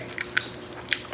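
Crunchy bites into fried Shanghai lumpia, with a few crisp crackles spaced apart over a quiet background, close and fairly soft.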